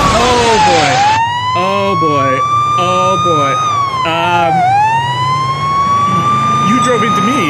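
A loud, continuous wailing police car siren in a police simulator video game sweeps up and down in pitch, with a person briefly speaking over it.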